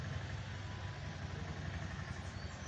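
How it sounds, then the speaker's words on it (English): Steady wind blows outdoors in open air where scavenger birds circle overhead in Kitale, a constant broadband rush with a low rumble, fairly even throughout and no voices. "the blowing of the wind"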